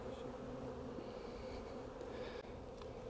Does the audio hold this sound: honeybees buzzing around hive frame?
yes